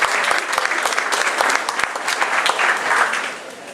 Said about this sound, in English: Give Aisha a round of applause.